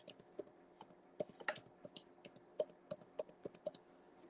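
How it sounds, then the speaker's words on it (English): Someone retypes a web address on a computer keyboard, about four seconds of light, irregular key clicks, fairly faint, with no talk over them. "I'm going to type it one more time because I see a little typo there."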